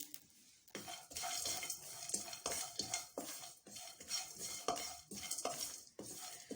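Coconut slices and spices being roasted in a pan for chicken dum pukht, with steady scraping stirs of a utensil against the metal, repeated rhythmic strokes and a light sizzle underneath, close and fairly loud, no talking.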